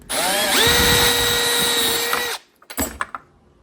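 A power drill whines steadily at high pitch for a couple of seconds, boring into aluminum, then stops, followed by a few light clicks and handling knocks.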